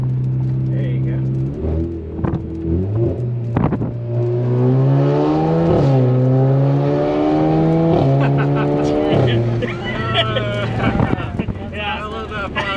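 A modified Alfa Romeo Giulia accelerates in race mode in manual gear selection, its engine note climbing loud and close through repeated pulls, with sharp exhaust pops and crackles between the revs.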